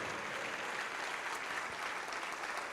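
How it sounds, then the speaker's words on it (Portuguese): A church congregation applauds during a Portuguese-language service, an even, continuous wash of many hands clapping at moderate distance with no break. "vamos aplaudir mais ao nome de Jesus"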